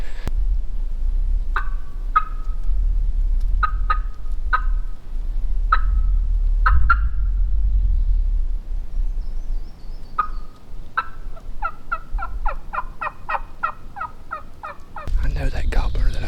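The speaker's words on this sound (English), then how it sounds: "That gobbler that I heard should only be out this ridge about 200 to 250 yards." A wild turkey calls on a West Virginia ridge during a hunt. Scattered short, sharp notes give way to a quicker run of repeated calls, moderately loud over a low outdoor rumble.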